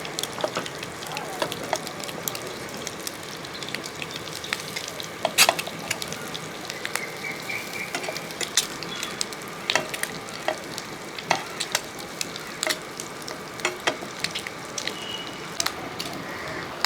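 Egg frying gently in a pan over a low flame, a steady soft sizzle with occasional crackles and light spatula stirring clicks throughout, close and fairly quiet.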